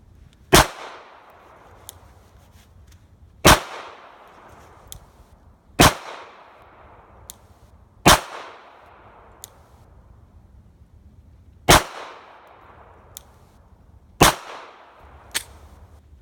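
Seven loud, sharp shots from a Glock 42 pistol at a shooting range, spaced a couple of seconds apart, each with a brief ringing decay, between faint clicks and no talking.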